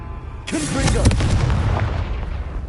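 A Confringo blasting spell detonates in Hogwarts Legacy: a loud, close explosion bursts in abruptly and rolls on as a sustained, crackling low roar that fades gradually, with a voice briefly mixed in.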